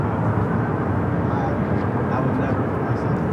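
A China Southern Airbus A350 starting its engines while parked outside a hangar at LAX gives a steady, broad rumble with a faint higher whine, continuous and moderately distant, with people talking over it.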